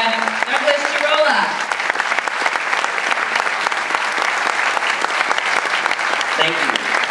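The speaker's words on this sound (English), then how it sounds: "please keep clapping again while we bring back to the stage the director" An audience at a documentary Q&A screening at a film festival claps steadily throughout, a dense sustained wash of applause while a voice briefly speaks over the start and near the end.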